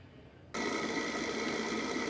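A sewing machine starts up abruptly and runs at a steady, fast, even whir, stitching a seam between fabric and binding on a small cosmetic bag, close and alone.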